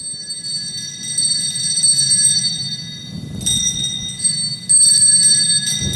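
Two small bells are played in a performance recording. Several struck rings sustain with bright, shimmering tones, with quieter low rumbling beneath and no talking.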